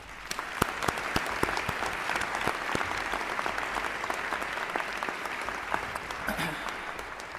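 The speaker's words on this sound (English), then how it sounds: "let's give him a round of applause" A crowd at a Boston University convocation applauds steadily in a large hall, dense clapping sustained for the full stretch at an even level with a few sharper claps standing out.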